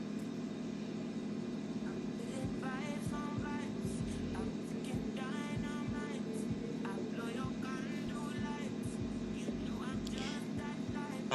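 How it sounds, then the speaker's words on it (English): A hair dryer blows steadily on a lace frontal wig styled with spritz, making a constant whirring hum throughout while a person talks quietly over it. "Here I am going in with some spritz and then blow drying it so it can be dry and stay intact."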